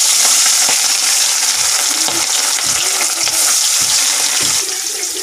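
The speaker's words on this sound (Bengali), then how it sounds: "এখন ভাজবো মাছ" Fish frying in oil over a wood-fired stove, a strong steady sizzle with spitting crackles and a few irregular pops throughout, close and loud.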